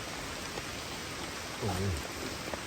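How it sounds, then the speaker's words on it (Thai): Jungle rain falls in a steady, soft wash of noise, with a brief low murmur of voices rising partway through. "ฝนตกทั้งวันทั้งคืนจริงๆครับ"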